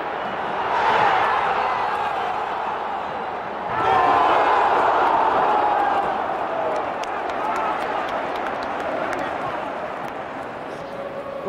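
Italian football crowd in a stadium, a broad roaring murmur that swells twice and then settles, with scattered claps beneath a person talking over it.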